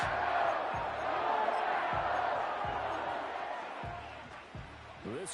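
Simulated stadium crowd in an EA Sports football video game, a steady broad roar late in a Packers game with faint rhythmic thuds underneath, moderately loud and continuous without any close voices.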